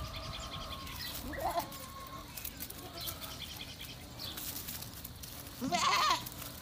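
Goats on a goat farm bleat in a few short calls spread across a faint, steady outdoor background, with one louder cry near the end.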